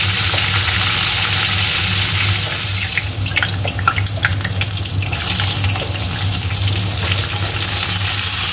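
Tap water runs steadily into a sink while vegetables are washed, with a low hum underneath and brief splashing and clattering from handling in the middle, close by and without talk.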